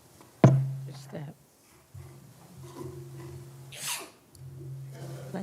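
Single sharp sneeze from a person near a microphone at a public budget hearing, a sudden loud burst followed by quiet breathing and faint background room noise.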